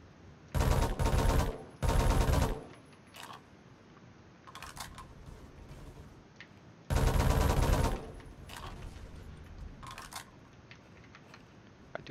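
L2A3 submachine gun in the Roblox shooter Phantom Forces, firing several short, loud full-auto bursts separated by quieter stretches with faint clicks and distant shots.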